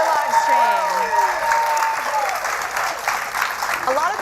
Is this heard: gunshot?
no